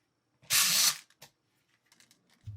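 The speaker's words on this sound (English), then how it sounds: "You just pop out the original cover and snap in the new one for this great little upgrade." A plastic unload adapter cover pops out and snaps onto an airsoft electric speed loader: one loud hissy burst followed by a short sharp click, then faint scattered small plastic clicks.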